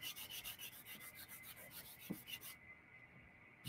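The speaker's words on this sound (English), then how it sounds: "I'm going to use 320 sandpaper, wet." Rhythmic wet sanding of a tube on a mandrel with 320 grit sandpaper and water, a steady repeated scrubbing rasp, close and fairly faint, which stops briefly near the end.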